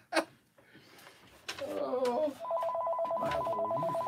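A telephone rings in a workshop with a Zebra printer, a steady electronic trilling pulse that starts after a couple of seconds and keeps going, with people talking briefly over it.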